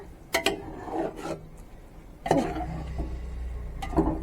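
Chicken stirred into biryani gravy in a pot, scattered scraping and thick squelching strokes with a few light utensil knocks against the pot, close and moderate, no voices.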